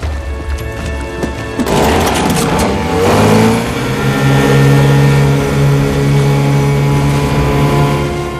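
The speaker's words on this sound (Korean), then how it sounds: "급하게 비상용 보트에 올라탄 안젤라" An emergency motorboat engine starts and revs up sharply, then settles into a steady, loud droning hum as it powers away.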